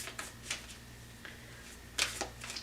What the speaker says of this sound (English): Whenever I shuffle these cards, they just like to go crazy on me.